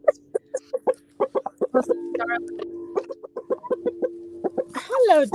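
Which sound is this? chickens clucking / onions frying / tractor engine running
chickens clucking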